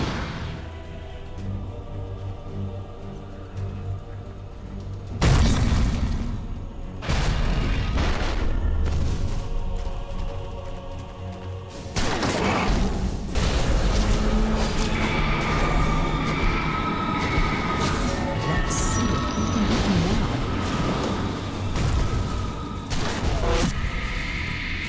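Dota 2 match during a tower attack: dense, loud game audio with repeated booming impacts and sharp hits, continuous layered combat effects and music throughout, no talk.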